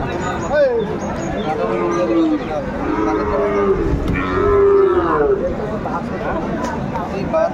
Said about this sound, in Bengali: বেশ সুন্দর সুন্দর কোয়ালিটি সম্পন্ন ষাঁড় বাচ্চা